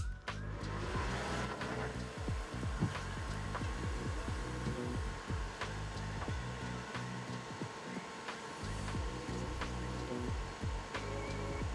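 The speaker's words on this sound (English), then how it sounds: "Gotta start my new fume extractor." Small fume extractor fan running on a workbench during soldering on a retro Tomy toy, a steady close whirring hum with a constant tone throughout and a few faint clicks and handling noises, no speech.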